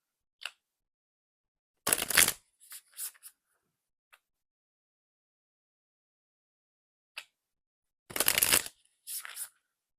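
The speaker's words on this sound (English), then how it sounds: "I always open the deck by shuffling bridge shuffle" A deck of tarot cards is bridge-shuffled in two quick riffling bursts several seconds apart, close and fairly quiet, with a few soft card taps between them.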